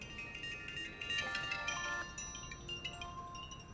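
A mobile phone rings with a bright electronic ringtone melody, moderately loud over a quiet indoor room background, lasting a few seconds with no talking.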